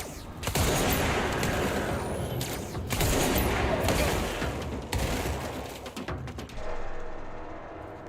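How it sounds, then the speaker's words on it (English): Continuous heavy gunfire from a weapon in the Control video game, dense sustained bursts with brief pauses, loud and close, ending in a quieter tail. "Seems like a pretty neat gun."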